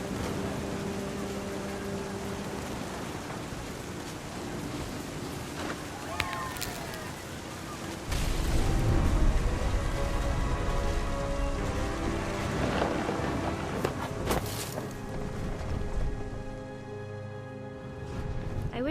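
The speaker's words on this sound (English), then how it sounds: "thunder sounded much too close and full of angry power" Rain pours steadily in the game What Remains of Edith Finch, with a deep rolling thunder rumble swelling midway, close and heavy, over a constant wash of rainfall and faint background voices.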